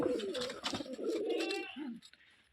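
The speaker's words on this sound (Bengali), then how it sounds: "এটা মাদি কবুতর" A female Rajshahi Giribaz pigeon coos in a soft, close, rolling series of low throaty calls that trails off near the end.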